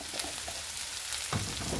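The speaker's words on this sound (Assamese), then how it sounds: "আৰু এতিয়া মই মছলাখিনি 1 পৰা 2 মিনিট টাইম ভালকৈ ফ্ৰাই কৰি লওঁ" Spices frying in a pan for an egg curry, a continuous soft sizzle and crackle that stays even and close, with a slightly louder stir or pop near the end.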